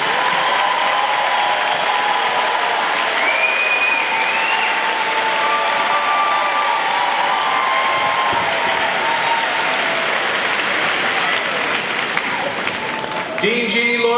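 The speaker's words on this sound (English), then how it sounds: "Let's have a big round of applause for all these graduates." Sustained applause from a large graduation ceremony audience fills the space, steady clapping with occasional cheers and whistles, fading slightly toward the end.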